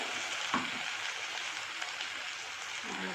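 Potato and onion fry in a pan with ginger, garlic and dried chili paste, making a soft, steady sizzle with a brief stirring knock near the start.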